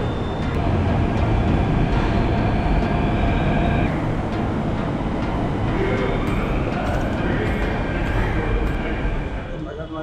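A metro train on a line through DN Nagar rumbles steadily and loudly throughout, a continuous dense roar with faint voices mixed into the background.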